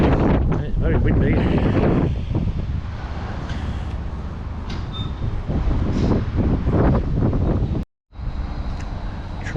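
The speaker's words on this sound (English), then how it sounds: "it's very windy" Strong wind buffeting the microphone on a railway platform at Alfreton station, loud rumbling gusts that surge and ease throughout, with a brief dropout near the end.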